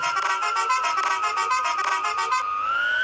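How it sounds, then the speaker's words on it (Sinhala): A long, loud electronic bus horn blast in a driving simulator game, slightly warbling and synthetic, holding steady before shifting pitch near the end. "ඒක නෝමල් බස් හෝන් එක"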